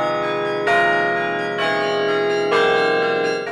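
Carillon tower bells play a slow phrase of three loud struck chords, each ringing on and overlapping the next with rich metallic overtones.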